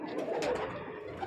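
Teddy breed pigeons in a breeding pair cooing softly, a steady low murmur with faint bird calls running through the short stretch, alone with no talk.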